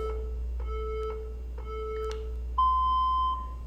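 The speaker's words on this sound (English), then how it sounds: "it will count down from 10, and then it will beep when it's about to start" A SmartWOD timer app counts down before a workout with four short, evenly spaced electronic beeps, then a longer, higher tone marking the start, clear and close over a low steady hum.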